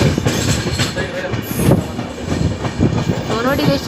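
A train passes on the railway line between Bangalore and Tumkur at night, a loud, continuous rumble broken by rhythmic wheel clacks and brief metallic squeals.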